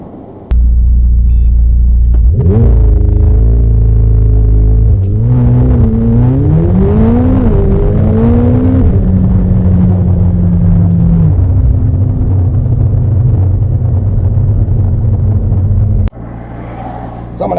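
Car on Toyo R888R tires accelerating hard from a standstill to 60 mph without launch control, a loud close engine roar climbing through rising pitch with distinct gear shifts, then settling into a steady drone before cutting off.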